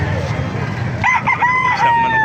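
A rooster crows loudly nearby at a gamefowl gathering in Calumpit, Bulacan, its long wavering call stretching over a second, with low background murmur beforehand.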